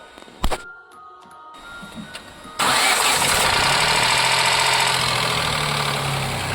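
Ford Ka engine starting with an abnormal noise: a few clicks and cranking, then the engine catches and settles into a loud, steady idle with a rough, knocking edge, close up with no talk.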